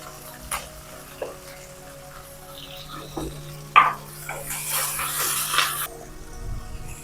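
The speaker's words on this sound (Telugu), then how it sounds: "జీలకర్ర ఆవాలు ఇప్పుడు ఉల్లిపాయలు కరివేపాకు ఉల్లిపాయలు వేస్తుంది" Onions and curry leaves frying with cumin and mustard seeds in a pan for Andhra egg and okra pulusu, a light sizzle with sporadic ticks and pops, louder crackling bursts near the middle and end.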